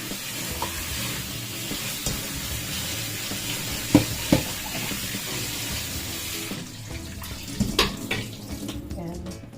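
Tap water runs steadily over fresh blueberries being washed for cupcake toppings, a close hiss of flowing water with light splashing and a few knocks from handling the fruit.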